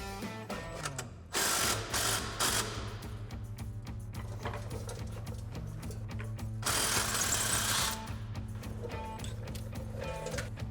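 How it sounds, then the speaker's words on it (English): Impact wrench with a 21mm socket removing the lower shock mount bolt on a 2014-2024 RAM 2500 during a leveling kit install, hammering in two strong rattling bursts over a steady mechanical whir, close up. "So we're gonna grab our impact and 21mm socket and take that off."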